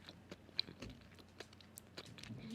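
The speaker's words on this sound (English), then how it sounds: "get that crunch in the mic." Close-miked crunchy chewing on food, quiet, irregular crisp crunches and mouth clicks spread across a short stretch, with no talking.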